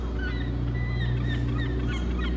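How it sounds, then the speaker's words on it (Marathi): Birds calling in a downtown market area, a quick series of honking, goose-like calls over a steady low hum of background noise. "त्या पक्ष्यांचे आवाज पहा."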